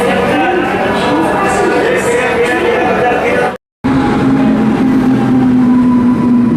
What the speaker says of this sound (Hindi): भिलाई के गोयल TMT WP7 के साथ 58206 इतवारी रायपुर पैसेंजर।